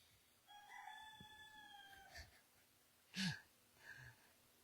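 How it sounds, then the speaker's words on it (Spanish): A rooster crows once, a fairly faint, drawn-out call in a quiet room, followed by a few short knocks and soft thuds. "Aleluya, cantó el gallo."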